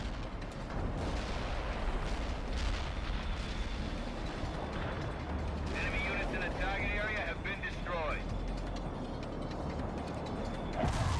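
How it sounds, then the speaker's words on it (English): Bombardment in the real-time strategy game World in Conflict, with a steady roar of explosions and mechanical rumble that fills the whole stretch at high loudness, a brief whistling tone rising midway through. "Laser guided bomb inbound."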